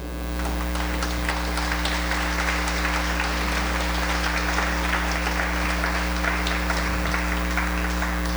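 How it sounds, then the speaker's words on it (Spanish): A church congregation applauds during a sermon, a steady wash of many hands clapping for several seconds, moderately distant, with a constant electrical hum beneath and no talking. "Yo pienso que Dios se merece un aplauso."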